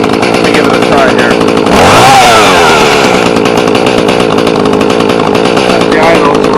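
A GoPed scooter fitted with a chainsaw motor screams loudly at high revs throughout, briefly climbing in pitch near the middle before holding a harsh, buzzing whine.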